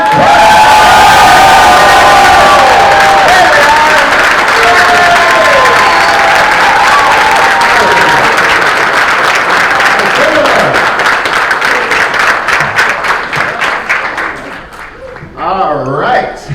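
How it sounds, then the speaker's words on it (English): A large convention crowd at a Dallas, Texas horror fan event bursts into loud sustained applause and cheering, with shouts and whoops over dense clapping that slowly thins out near the end. "Let's give a big Texas round of applause for Damien and David."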